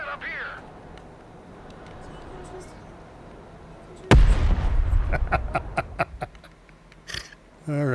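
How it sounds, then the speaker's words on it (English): Mortar rounds landing in the strategy game Broken Arrow: after a quiet stretch with faint radio chatter, a loud boom erupts, followed by a scatter of further blasts and crackling debris, then another impact near the end. "And then the mortars come in."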